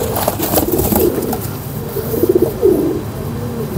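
A golden flying pigeon at a Lahore pigeon keeper's loft gives soft, low cooing phrases, close and clear, with a couple of rolling coos repeating over a steady background.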